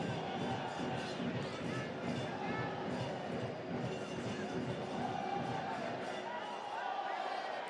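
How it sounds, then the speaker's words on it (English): A stadium crowd in a rival's ground roars and cheers for Alajuelense during a Concacaf League match, a dense, continuous wash of voices from a big audience with chants rising and falling throughout. "All cheering for Alajuelense."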